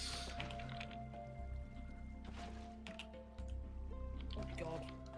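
Water drips and trickles in Minecraft, soft liquid squishes and drops repeating against steady game music, with a voice talking over it.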